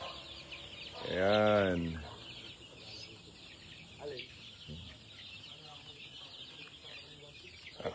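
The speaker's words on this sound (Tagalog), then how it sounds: "Ito yung mga sisiw natin" Farm chicks and fowl make clucking calls outdoors, with one loud rising call near the start and fainter clucks after. Someone talks intermittently over them.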